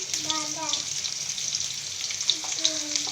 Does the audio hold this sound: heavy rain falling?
no